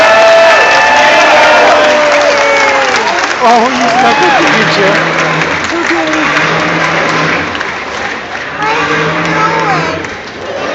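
Children cheer, shout and clap for Megasaurus in a lively, continuous burst of crowd noise, with excited high voices rising and falling throughout and someone talking over the din.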